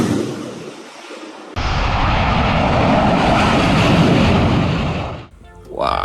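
A muddy toy fighter jet gives off a loud electronic jet-engine roar that starts abruptly after a quiet moment, holds steady for about four seconds, then drops away before other sounds briefly return.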